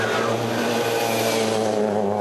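World Rally car driven by Fernando Capdevila at the Atogo mini rally sprint, its engine revving hard with rising tones as it passes close by, loud and alone.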